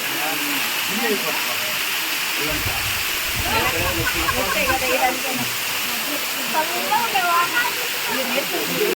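A waterfall hisses in a steady wash of rushing water, with a voice speaking over it in the middle.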